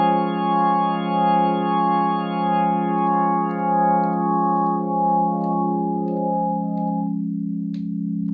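A Nord Stage 3 organ sustains a steady chord while drawbars are pushed in one by one, upper harmonics dropping away until only the low fundamental tone remains, with a gentle rotary-style wobble throughout.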